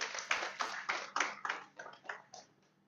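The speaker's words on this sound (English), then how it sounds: "I want us to give us a big round of applause." Around ten crisp claps land in a steady rhythm, gradually fading away and leaving quiet at the end.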